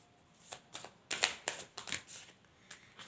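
Sticky tarot cards are shuffled in a quiet room, giving a quick series of soft riffling bursts and slaps over about three seconds, heard up close.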